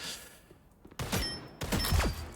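Winter Soldier's primary weapon in Marvel Rivals fires two heavy booming shots about half a second apart, each a hard thump with a falling ring, loud and close over quiet game ambience.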